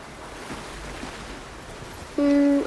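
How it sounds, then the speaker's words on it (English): Ocean waves in a video game wash steadily in a soft, continuous surf, with a louder tonal game sound cutting in near the end. "These waves are gonna push me."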